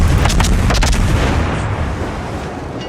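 Naval cannon fire in the video game World of Warships booms out in a rapid salvo of several close, heavy shots, then a rumbling decay with no talk.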